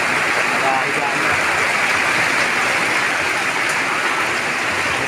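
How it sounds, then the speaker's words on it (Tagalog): Heavy rain pours down on a flooded garden where eggplant and papaya plants have toppled, making a loud, constant, dense roar with no pauses. "Grabing ulan guys"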